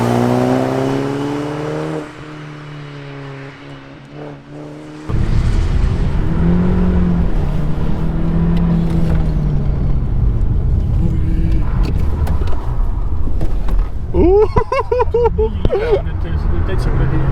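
Car pulling away under full throttle on a kart track during a karting battle event, engine revving loud and rising in pitch after a quieter idle start, with people talking over it.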